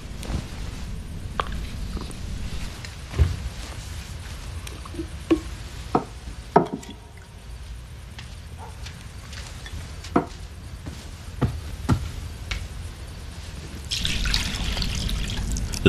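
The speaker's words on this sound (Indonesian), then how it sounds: "Lalu Ia menuang air ke dalam sebuah baskom" Water trickles and drips into a basin, with intermittent splashes and sharp drip taps over a low steady wash, ending in a brief stronger pour; no talking.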